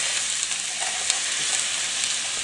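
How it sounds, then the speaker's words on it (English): Peeled, deveined shrimp and onion sizzle steadily in sesame oil in a pan, a constant close hiss with faint stirring clicks and no talking. "And now I've got a saute or a stir fry of sesame oil, onion, and shrimp."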